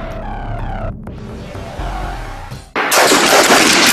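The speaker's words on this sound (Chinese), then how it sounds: "科目要求狙击手在90秒以内连续完成对100米外6个铜钱靶的射击" A sniper rifle fires at small copper-coin targets 100 meters away in light rain during a Chinese armed police special forces shooting competition. Indistinct sounds come first, then a sudden loud, broadband blast that stays strong to the end.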